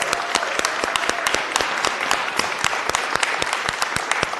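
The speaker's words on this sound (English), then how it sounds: "Please give her a round of applause as she comes down." Applause from an audience at a city Board of Supervisors meeting, many hands clapping in a steady, moderately loud burst with sharp individual claps standing out throughout.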